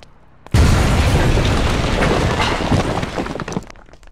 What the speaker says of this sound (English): we destroy the WrestleMania arena